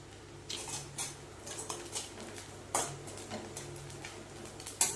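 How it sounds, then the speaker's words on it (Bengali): A spatula stirs water lily stems with fried coconut in a cooking pan, producing close, intermittent clinks, taps and scrapes against the metal at an uneven rhythm, with no talk. "এবার শাপলাটাকে দিয়ে ভালো করে কষিয়ে নেব।"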